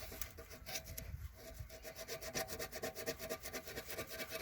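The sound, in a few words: filing by hand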